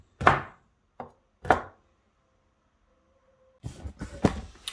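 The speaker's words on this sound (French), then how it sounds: "je récupère les orangettes, je vais les couper et en mettre dessus" Knife cutting candied orange peel strips (orangettes) on a board, a few separate dull chopping thumps followed by a quicker cluster of cuts, close and fairly quiet with no talk.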